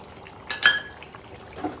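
Chicken curry ingredients, chicken masala and curd, stirred together in a bowl: two sharp spoon clinks against the dish amid faint wet mixing, close and brief, with no talking.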